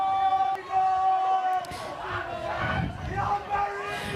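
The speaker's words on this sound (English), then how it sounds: "We can hear the coaches cheering from the jetty." Coaches cheer and shout from a jetty at the RMB Buffalo Regatta rowing finals. The crowd noise comes in bursts, with a commentator talking over it.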